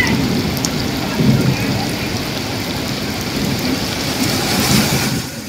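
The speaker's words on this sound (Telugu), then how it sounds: "అబ్బా అబ్బా ఏం వానలు" Heavy monsoon rain pours steadily during a depression, with rolling thunder rumbling low beneath it. The roar is loud and unbroken throughout.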